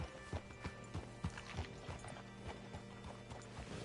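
Horse hooves clip-clop in a steady rhythmic gait in the video game Red Dead Redemption 2, fairly close, with a faint tonal background hum and no talking.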